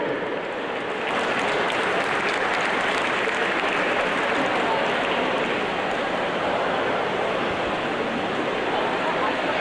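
Sustained applause from a swim meet audience greets a medal presenter, Swim Ontario's CEO, as a dense, even wash of clapping starting after a second's pause and continuing steadily at moderate volume.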